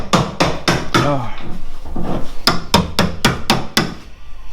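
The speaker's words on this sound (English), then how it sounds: "I feel like a true redneck doing this shit with a chisel." A hammer drives a chisel against the lower control arm of a 1972 Chevelle wagon, sharp metallic strikes in two quick bursts of about five blows each with a short gap between, close and loud, and a voice briefly heard among the first hits.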